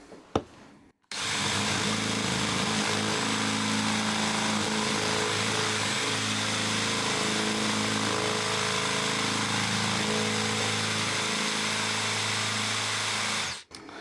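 A power drill fitted with a dull twist bit grinds and burns into material in one long, loud, steady run, starting and stopping abruptly, with no voices.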